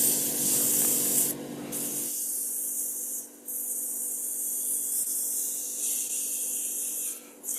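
Abrasive paper rubs against a spinning wood-turned piece on a lathe, a steady close hiss with brief pauses as the sanding contact changes.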